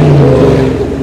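A car engine at a meet revs loud and close in a brief, heavy, sustained roar with a deep throbbing tone and no talk.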